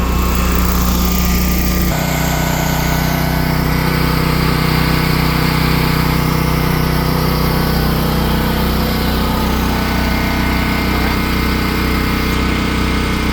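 A portable generator runs with no load, its small engine droning loud, close and continuous with a steady mechanical hum and a brief shift in tone near the start.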